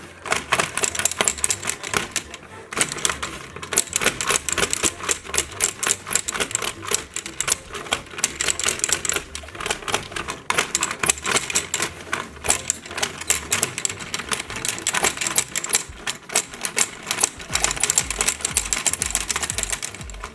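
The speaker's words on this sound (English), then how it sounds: "I guess I gotta amp up the mashing on these buttons." Someone rapidly mashes the plastic buttons on an Akedo Battle Giants arcade battle toy, making a dense, continuous clatter of quick clicks that runs for about twenty seconds with no talking.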